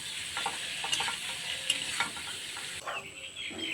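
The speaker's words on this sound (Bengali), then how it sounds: "আলু, গাজর, ফুলকপি কিছুক্ষণ ভেজে নিলাম" Potato, carrot and cauliflower fry in a pan for dalia khichuri, with a continuous close sizzle broken by repeated scraping stirs of a spatula.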